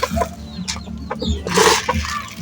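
Chickens cluck and squawk close by as they are fed in the afternoon, a busy, continuous flock chatter with a rooster note in the mix and steady background noise, no talking.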